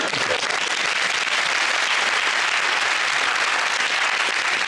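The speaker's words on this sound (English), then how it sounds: "I think a few of the men started clapping before the end of that joke" A studio audience at a comedy panel show breaks into sustained, dense applause after a joke, loud and even from start to finish with no speech over it.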